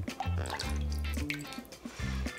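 Vegetable broth poured into a small ramekin, a short close splashing trickle with dripping and gurgling liquid sounds.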